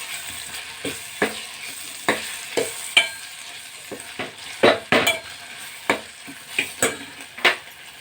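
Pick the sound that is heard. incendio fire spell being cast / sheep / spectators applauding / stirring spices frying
stirring spices frying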